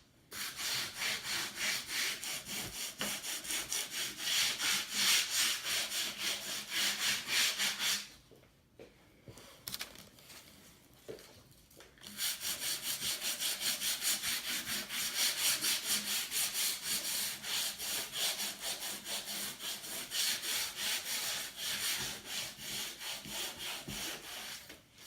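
Sandpaper rubs back and forth over a painted wooden Christmas sign in fast, rhythmic, raspy strokes close by, pausing briefly partway through before resuming just as steadily.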